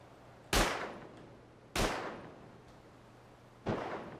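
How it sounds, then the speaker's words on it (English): Three distant custom SMG shots in the game Rust, each a sharp crack with a long booming tail, spaced unevenly, with a low steady hum between them. "The gunshots from far away, they also just changed those. So this is a custom SMG."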